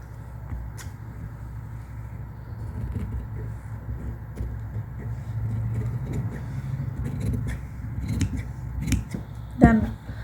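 Scissors cutting the body panel of a girl's frock from fabric on a boutique tailoring table, a steady snipping under a low background rumble with occasional sharper clicks and one louder snip near the end.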